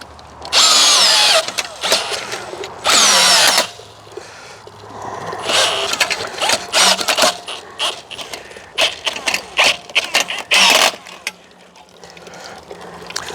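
A power drill in plain drill mode, used while pressing apples for cider, whirs loudly in repeated bursts of varying length, with clattering and knocking between runs and no talking.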